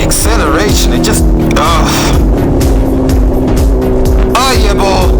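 Motorcycle accelerating loudly and close, engine pitch climbing in repeated rising sweeps as it revs through the gears, with rider talk mixed in over the roar.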